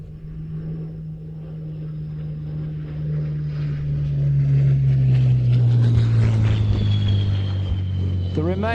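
A propeller aircraft at the Old Buckenham Airshow 2022 drones steadily, growing louder as it nears and its pitch sliding downward as it passes, with a commentator's voice underneath.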